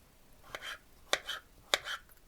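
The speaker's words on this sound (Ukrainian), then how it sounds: "кришимо такими кусочками," A knife chops barrel-pickled cucumbers into cubes on a board: three crisp, evenly spaced cuts, each with a short follow-through, close and alone in a quiet kitchen.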